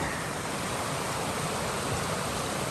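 Continuous rushing of flowing stream water, close and steady, with no voices.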